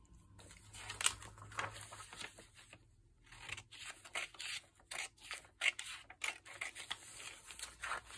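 Scissors snip out paper pieces for a mixed media craft project, giving quiet irregular cuts and rustles with a short pause near the middle, heard close up with no talking.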